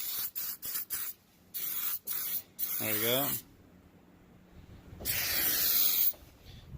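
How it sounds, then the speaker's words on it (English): Spray adhesive hisses from an aerosol can in several short bursts against a scrap piece of metal, then a longer sustained blast, close by, with a brief spoken remark in between. "And I'm just spraying against a scrap piece of metal."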